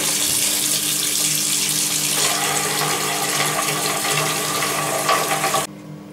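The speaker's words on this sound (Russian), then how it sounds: "Сейчас я буду наливать холодную воду." Cold water gushes from a tap into a bucket for an ice bucket challenge, a loud, continuous rushing pour that fills the scene and cuts off abruptly near the end.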